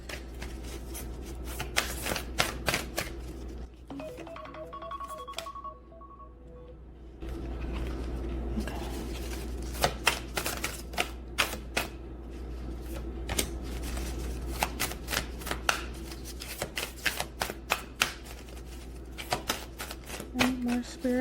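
Oracle cards are shuffled in repeated bursts of quick riffling flutters and soft slaps, close and fairly quiet over a low hum, with a short pause partway through.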